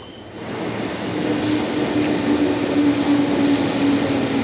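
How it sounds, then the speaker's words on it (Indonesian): A KRL commuter train at Depok station, a platform on Indonesia's electric commuter rail, rolls through with a loud, steady rumble and a sustained high wheel squeal running across the whole stretch, with no talking. "Diandra, Anda saat ini ada di stasiun KRL Depok"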